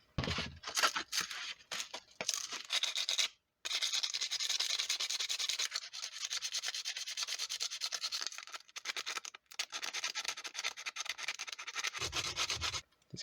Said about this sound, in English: So first I'm going to clean this up with some sandpaper